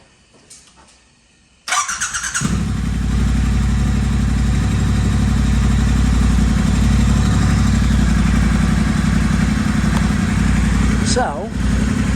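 A Triumph Bonneville Speedmaster with a de-catted exhaust starts after a quiet moment with a short cranking whirr, then catches and settles into a loud, steady, close idle that runs on to the end.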